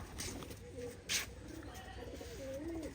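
Giribaz pigeons at a pigeon farm coo softly and repeatedly, faint and fairly close, with one brief rustling burst in the middle.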